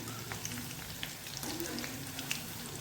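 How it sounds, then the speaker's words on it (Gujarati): Chili ring bhajiya frying in hot oil, a soft continuous sizzle and crackle with small pops scattered throughout, close and fairly quiet. "આવી રીતે પલટાવતા રહીશું અને તળી લઈશું."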